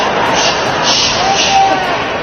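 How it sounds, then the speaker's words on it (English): A huge crowd at Disney's D23 event, a loud, dense, steady wash of many voices filling a large hall without pause. "to hear that humongous crowd, y'all just need to hear it for yourselves"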